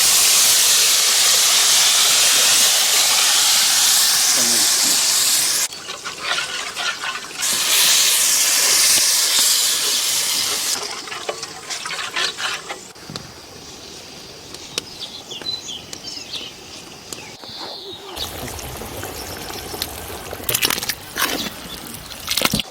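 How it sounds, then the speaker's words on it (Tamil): Steady broadband hiss of masala boiling vigorously in a pot, loud and close, later thinning into softer bubbling with occasional clicks and pops. "மசாலா நல்லா கொதி வந்துடுச்சுங்க"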